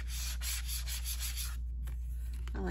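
Glossy gilded-edge tarot cards from an indie deck rub and brush softly against each other, producing a continuous close, quiet swishing texture with brief pauses and a faint scrape near the end.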